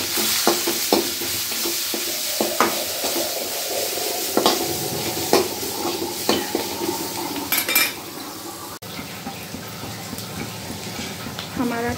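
Spices for a tadka sizzle in hot oil with red chilli powder while a spoon stirs and scrapes against a metal pan, clinking repeatedly close up.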